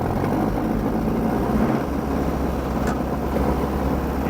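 An Allis Chalmers D14 tractor pulling a two-bottom garden plow runs with a loud, steady engine drone close up, its low tone dropping and settling as the throttle changes midway.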